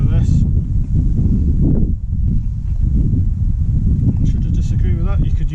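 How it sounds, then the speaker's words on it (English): Wind blowing outdoors during a small mower tyre puncture repair, a loud, constant low rumble buffeting the microphone throughout, with a brief lull midway and a person speaking over it. "It's getting windy, my punch repair kit's blowing away."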